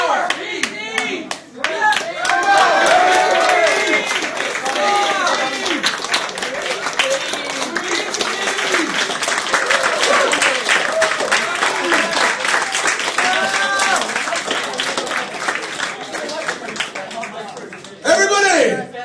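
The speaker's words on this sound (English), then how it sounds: "Keep your applause going for every action saw in that section." A live comedy-show audience claps and cheers in a dense, sustained burst of applause for nearly twenty seconds, with shouting and laughing voices mixed throughout and a final short flurry after a brief dip.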